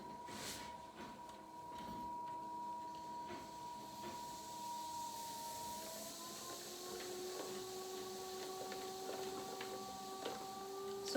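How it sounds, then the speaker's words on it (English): A trimming tool shaves clay from a bowl spinning on a potter's wheel: a quiet, steady whine from the wheel with faint, scattered scraping ticks, the pitch shifting slightly partway through. "If the clay is coming off in spirals like this, that means you're ready to trim."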